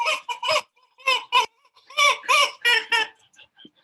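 Rubber chicken squeaks in a series of loud, close squawking honks, several short bursts in uneven rhythm with brief pauses between them.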